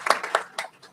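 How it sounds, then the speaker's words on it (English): A room audience claps for a forum timekeeper in a short, uneven burst of hand claps that tails off within a second, with no talk over it. "Round of applause for the timekeeper."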